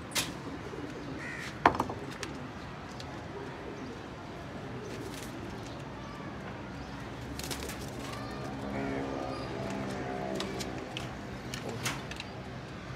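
A breeding pair of pigeons in a loft, with faint cooing and bird calls over a steady low background hum, a couple of sharp knocks early on, and a voice speaking now and then.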